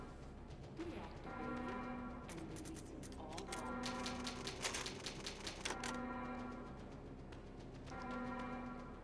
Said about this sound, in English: Old typewriter. Yep. Save my progress.